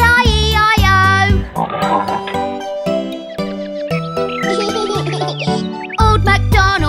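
A sung children's farm-animal rhyme in a cartoon, where a voice imitates pig oinks in repeated bouncy phrases over bright jingling music.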